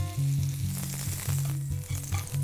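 Hamburger steaks sizzle steadily as they fry in a pan, a loud continuous crackle with repeated hissing bursts close by, no voices.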